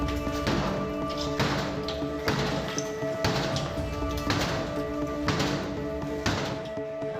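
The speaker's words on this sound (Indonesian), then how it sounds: "Aparat Subdit Jatanras Polda Metro Jaya terpaksa membobol pintu besi sebuah rumah yang dikunci rapat dari dalam." Police forcing open a steel door locked from inside a house during a raid in Central Jakarta, with loud repeated metallic bangs and thuds striking at a steady rhythm of about one blow per second, close and continuous.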